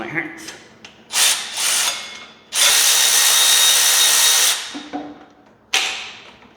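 Power tool buzzing in several bursts while removing 10 mm water pump bolts on a Chevy Silverado 4x4 during an engine swap, short whirs followed by one long loud run, then a final burst.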